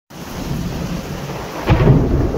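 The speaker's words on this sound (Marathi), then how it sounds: "आणि जोरदार असा पाऊस चालू झाला" Steady heavy rain roars close by, and a deep thunder crack swells in near the end, louder than the downpour.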